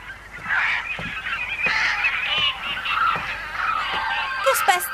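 Cartoon birds honk repeatedly and loudly in a steady chorus of goose-like calls throughout, with faint chatter mixed in.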